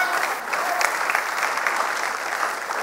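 Audience applause at a COLSECOR conference session, a steady wash of clapping from a seated crowd, sustained and even throughout with no voices standing out.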